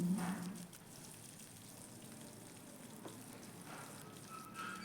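Mustard seeds, cumin, chana dal and green chilies frying in hot oil for a peanut usli, giving a soft, steady sizzle with faint crackles, close but quiet and without talk.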